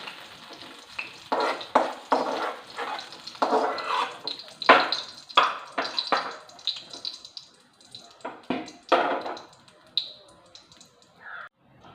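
Ginger, garlic and green chillies sauté in a pan for a kovakka fish curry, with a close, hissing sizzle and repeated uneven bursts of stirring and scraping.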